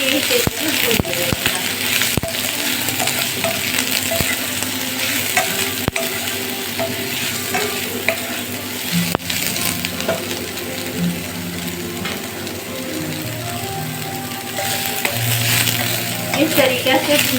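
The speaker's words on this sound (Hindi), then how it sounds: "अब अच्छा से यही तेल में भून देंगे।" Soaked soybeans fry in hot oil in a kadai for a lauki soybean sabji, a continuous close sizzle with scraping stirs and occasional clinks of the utensil against the pan.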